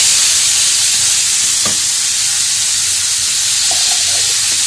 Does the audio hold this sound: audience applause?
no